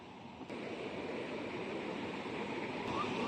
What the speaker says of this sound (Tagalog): Ayan na ang dagat. Ayan ang alon.